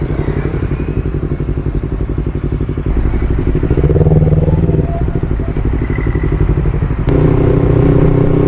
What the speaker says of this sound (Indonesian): Bisa kalian dengar sendiri ya kondisi jalanan yang banyak motor lalu lalang